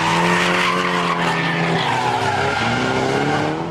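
Drift cars skid around the tight, winding school course at the Ebisu Drift Festival in Fukushima, a loud, sustained tire squeal mixed with revving engine drone, close and continuous with no talk.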